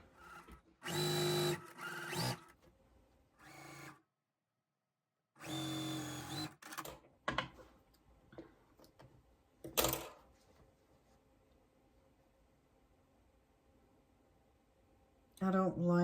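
A home sewing machine stitching quilt blocks for a twin star basket quilt, running in two loud bursts of a second or so each, then falling quiet, with softer handling noises and a few brief sounds after.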